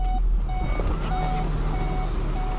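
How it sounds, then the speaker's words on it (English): A 2019 Volkswagen Golf R, painted black, gives off a series of evenly spaced electronic beeps, clear and close over a low steady hum. "lots of beeping from this Volkswagen Golf R"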